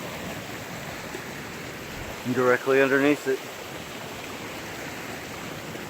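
A small creek runs with a steady broadband rush of flowing water, and someone talks briefly over it around the middle.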